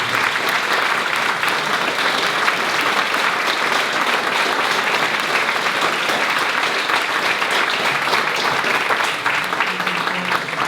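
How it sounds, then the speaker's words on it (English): A crowd at a candidates forum at an Ocean Park event applauds steadily and loudly, the dense clapping continuing without a break, with some voices mixed in. "Let's have a round of applause for those who are Thank you"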